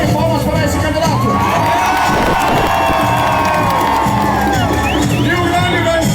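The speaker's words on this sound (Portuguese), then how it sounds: "Uma salva de palmas para esse candidato." Loud cheering at a street Carnival moonwalker dance contest for a male contestant: a dense crowd roar with whoops, high children's shouts and scattered voices, sustained and close throughout.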